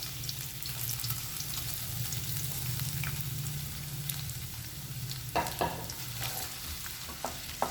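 Sliced potatoes sautéing in hot coconut oil and ghee, a steady low sizzle with occasional clinks and scrapes of stirring, close and unaccompanied by speech.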